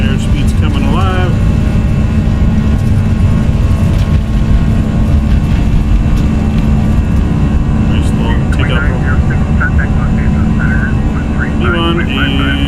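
Airbus A319 takeoff roll in the X-Plane 11 flight simulator, a loud steady jet engine roar with a low rumbling drone throughout, overlaid by faint radio-like chatter and tones.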